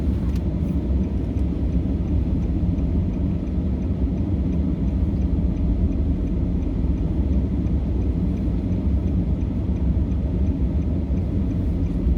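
A pickup truck's engine idles continuously, a steady, even low rumble filling the whole span with no speech over it.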